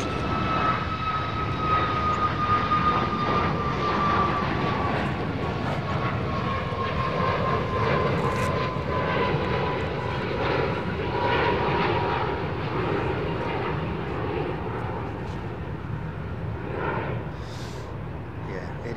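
Airplane engines at Chicago O'Hare airport roar steadily for the whole stretch, a broad loud rushing drone with a faint whining tone sliding slowly downward, no talk.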